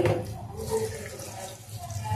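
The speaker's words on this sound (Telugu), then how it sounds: "తడమని వేసాము కదా, వాటర్ కూడా వేసుకోవాలి." Water splashes and gurgles as it is poured into a cooking pot with turmeric already added, a short continuous liquid pour close by.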